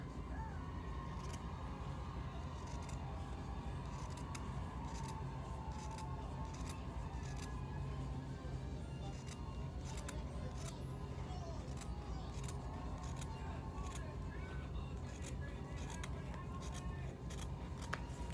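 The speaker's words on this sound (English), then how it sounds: "On the line that you drew, we're gonna cut on that line." Scissors snipping through quilt fabric squares along a drawn line, a steady stream of small crisp cuts close by over a constant background hum, with a voice talking at moments.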